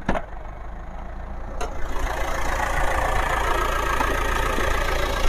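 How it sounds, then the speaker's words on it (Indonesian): A Mitsubishi Pajero Sport Dakar automatic idles smoothly under an open hood, a steady low rumble heard close by after a couple of brief clicks at the start. "Suaranya masih halus, mesinnya masih kering, masih normal."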